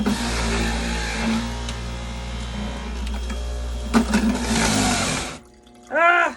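Loud, continuous grinding whir of a juicer crushing ginger for carrot juice, steady for several seconds with a brief jolt near the middle, then cutting out before a short, rising mechanical whine.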